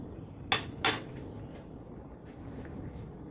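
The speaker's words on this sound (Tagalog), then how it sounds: "At pwede na natin ilagay yung repolyo." Cabbage goes into a full cooking pot, giving two sharp metallic clinks close together, like a utensil striking the pot rim, followed by faint scattered rustling and handling sounds in a quiet kitchen.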